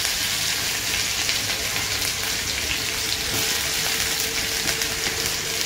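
Finely chopped onion sizzles in hot mustard oil in a pan while dhaba-style shev bhaji is being cooked, giving a steady, loud, continuous frying hiss with no pauses.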